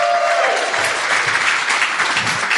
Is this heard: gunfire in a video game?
no